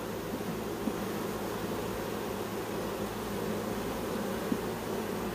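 Honeybees from a newly installed package buzz steadily around a nuc box, a continuous low drone with faint insect hum and no voices.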